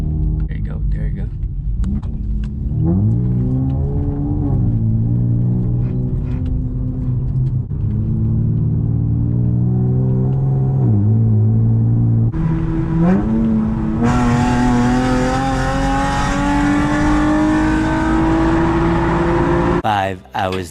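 A nearly 400hp CT2 car accelerates hard, its engine note climbing steadily through a long pull with a shift partway, loud and close from inside the cabin, with voices talking over it.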